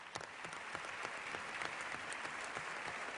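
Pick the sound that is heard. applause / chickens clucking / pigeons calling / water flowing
applause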